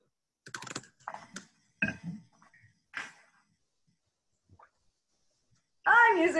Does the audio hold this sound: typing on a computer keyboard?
yes